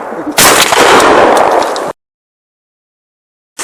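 A Benelli Comfort shotgun firing a 32-gram number 3 shot cartridge during pre-season hunting ammunition testing: one loud, sharp blast with a short rumbling tail, then abrupt silence before another burst begins at the end.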